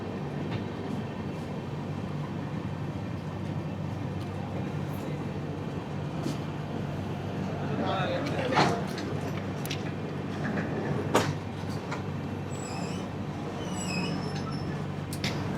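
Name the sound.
Jan Shatabdi train running near Igatpuri station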